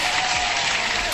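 Applause in a crypto market livestream, a dense steady wash of clapping held at an even level throughout a brief burst.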